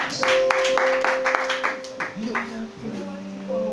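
A church congregation claps to acclaim Jesus during a worship service, a brisk burst of applause at the start that fades beneath sustained music and singing tones.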